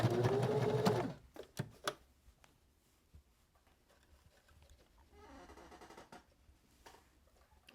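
A sewing machine stitching felt runs in one short, loud burst at the start, then stops, leaving scattered clicks and a faint low hum.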